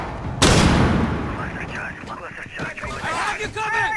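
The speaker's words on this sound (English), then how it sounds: "Watch out, I'm throwing a flashbang." A flashbang grenade goes off in Rainbow Six Siege during a team deathmatch on Hereford Base, one sharp loud bang that fades into a ringing tail, with players talking over the aftermath.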